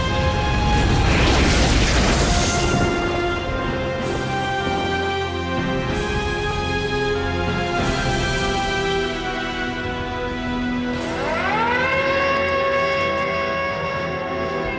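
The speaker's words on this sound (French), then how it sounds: "Cette sirène retentit 1000 fois chaque année aux États-Unis." A tornado warning civil defense siren wails across a US town, its loud sustained tone rising and falling continuously for the whole stretch, with a deep rumble beneath at the start.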